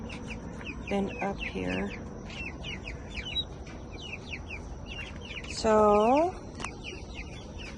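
Chickens cluck and squawk near a backyard coop where a predator has recently visited, a few sharp calls rising over steady rustling and distant chirping, with someone speaking briefly.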